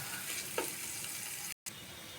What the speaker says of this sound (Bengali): ওর জন্য রসুন, পেঁয়াজ আর তেল দিয়ে দিলাম। এটা একটু ব্রাউন কালার করে ভেজে নিব।